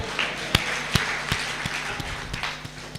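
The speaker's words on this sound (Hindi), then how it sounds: "इंदू जी के लिए भी तालियां बजा दो।" Audience applause at a Hindi women poets' gathering: scattered, sharp claps over a broad wash of crowd noise, moderately loud and steady for a few seconds.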